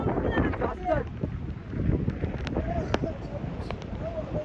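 Strong river current rushing near a muddy hill fort trail, a dense continuous roar mixed with wind buffeting the microphone and voices talking over it.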